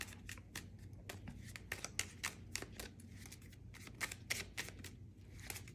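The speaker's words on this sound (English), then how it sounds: "I'm going to go ahead and get started with the shuffling" A deck of cards is shuffled by hand in a series of quick riffling bursts and soft flutters, close and fairly quiet, with no talking over it.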